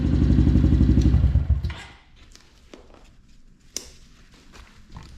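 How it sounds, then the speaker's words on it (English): A Honda CRF110 motorcycle engine runs loud and steady at idle after an oil change, then cuts off abruptly, leaving faint clicks and light clatter nearby. "So now we let our bike run for a few minutes."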